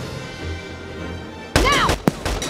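A single sharp, loud gunshot in Valkyria Chronicles 4 cracks out after a stretch of quiet ambience, with a whistling tail and a second short thump close behind.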